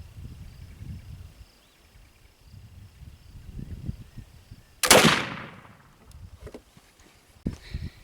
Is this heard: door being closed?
no